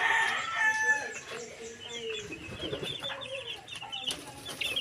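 Chickens cluck and crow near caged chicks on a rural plot, with chirps and calls overlapping at moderate volume, while a voice speaks quietly underneath.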